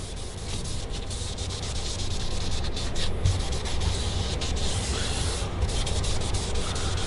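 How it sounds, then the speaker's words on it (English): A wooden guitar body is sanded by hand with 320 open grit sandpaper, producing a steady, close, continuous rubbing scrape with even strokes and no talking. "We sanded down to 320 with that open grit sandpaper."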